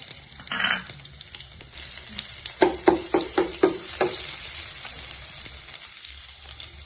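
Cumin, mustard seeds, asafoetida and garlic-ginger paste hit hot oil with a burst of sizzle, followed by a quick series of five or six crackling spits and a softer ongoing fry, fairly close and alone.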